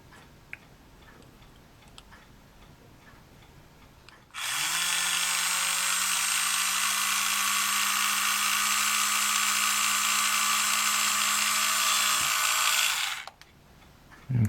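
A small high-pitched drill bit whines steadily for about nine seconds drilling a ship model funnel, starting and stopping abruptly, with quiet room sound before and after.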